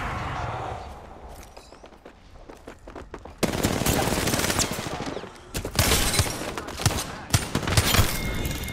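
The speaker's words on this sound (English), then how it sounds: "I am taking fire, friends." Gunfire in Apex Legends: after a quieter stretch with a few scattered shots, loud rapid bursts of automatic fire break out nearby and carry on in dense volleys with brief gaps.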